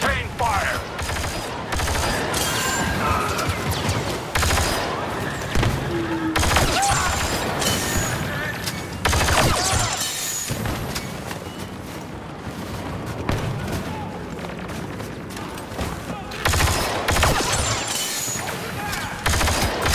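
Dense, continuous barrage of blaster and weapons fire in Star Wars Battlefront II, rapid overlapping shots and booming impacts crowding one another close and loud throughout, with voices briefly heard beneath the battle.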